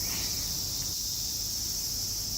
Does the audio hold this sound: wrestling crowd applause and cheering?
no